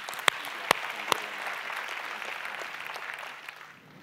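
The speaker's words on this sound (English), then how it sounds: "Give them a big round of applause." Applause rings out at a youth summit for a group of young people, with a few sharp claps near the start followed by steady crowd clapping that fades slightly toward the end.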